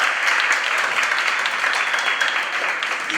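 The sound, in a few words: audience applause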